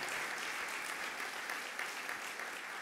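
Dense audience applause at a political rally, a continuous, fairly faint wash of clapping heard from within the crowd with no break.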